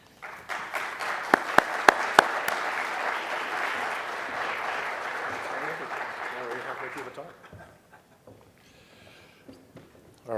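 A live audience applauds to welcome a speaker onto a conference stage, with sustained clapping and a few sharp, close claps early on. The ovation fades after about seven seconds into quiet room noise.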